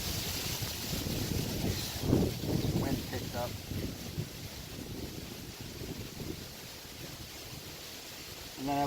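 Wind gusts outdoors on a rooftop during flashing work, buffeting the microphone with a steady broadband roar that swells and eases, while someone talks under it.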